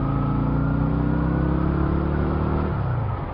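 A car engine revs hard and steadily after a missed downshift, a loud continuous droning roar with a strained tone that drops slightly near the end.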